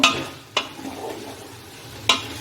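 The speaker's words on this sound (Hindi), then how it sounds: "तो हम इसको बड़े गैस पे अच्छे से 10 मिनट अच्छे से भून लिए।" One kilogram of salted boneless mutton frying and stirred over a high gas flame for Afghani pulao: a close, continuous sizzle punctuated by three sharp utensil clanks against the pot, no voices.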